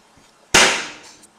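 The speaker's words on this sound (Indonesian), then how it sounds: "Suara tembakan di dinding goa mengagetkan semua orang" A single sharp gunshot cracks loudly inside a cave, then rings out in a long, reverberant decay that fades over about a second.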